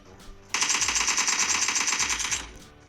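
A mobile video game plays a single sustained burst of rapid machine gun fire, loud and close, lasting about two seconds. Quieter ambience comes before and after the burst, with no talking.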